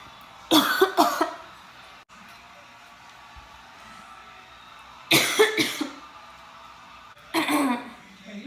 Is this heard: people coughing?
yes